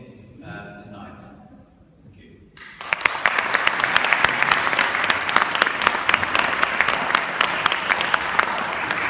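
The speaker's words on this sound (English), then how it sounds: "thank you very much for applauding him tonight" Audience applause for the recipient of an Outstanding All-Round Academic Award at a Huddersfield ceremony breaks out suddenly after a few seconds of quieter room sound, then holds as steady, dense clapping filling the hall.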